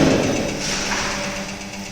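A pin-on-disc wear testing apparatus runs steadily at 500 RPM with a brass specimen pin, giving a continuous mechanical hum with faint tonal lines, loud and close, with no talk.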